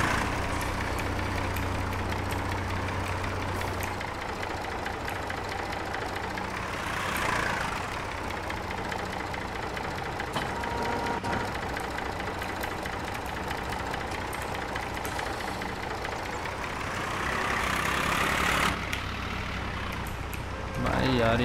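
A tractor engine idles in Farming Simulator 22, a steady low rumbling drone that holds for the whole stretch with a brief rise near the end while someone talks over it.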